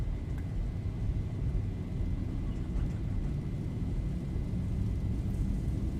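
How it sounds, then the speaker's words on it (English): Aircraft engines in a flight simulator spool up to takeoff thrust on runway 29, a steady, loud low roar and rumble that holds without a break. "Takeoff thrust set."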